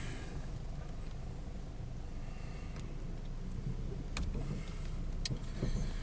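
Car slowly rolling toward a Ryko Premier XL car wash at a Mobil station in Paraparaumu, a steady low vehicle rumble with a couple of brief clicks and thumps near the end, no talk.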